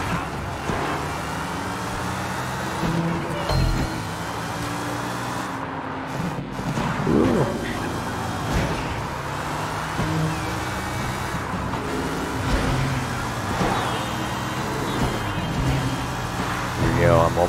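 A car drifting in the video game Sleeping Dogs, a continuous engine drone with tire and road noise running under someone talking throughout.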